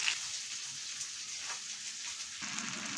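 Masala fish frying in a pan with oil, a steady close hiss of sizzling with small crackling pops throughout.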